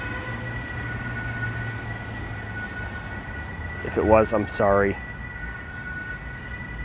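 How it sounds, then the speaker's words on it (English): An emergency siren wails loudly for about a second, two rising-falling sweeps close by, over steady background hum, with a person speaking briefly. "I really hope that siren was not too loud."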